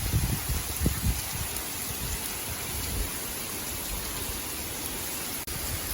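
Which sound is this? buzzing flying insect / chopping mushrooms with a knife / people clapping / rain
rain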